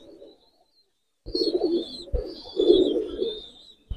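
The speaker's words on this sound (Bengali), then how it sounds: "ইরানি লাক্ষা কবুতর? হ্যাঁ, এটা হলো মেন সেট কবুতর আমার, ইরানি লাক্ষা" Iranian Laksha pigeons coo in a loft in a few soft, throaty bursts separated by pauses, with a faint higher chirp-like tone above, fairly near.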